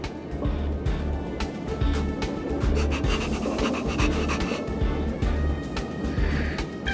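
A dog pants quickly and steadily throughout, close by, with rapid rhythmic breaths over a low background hum, from the video game Honkai: Star Rail.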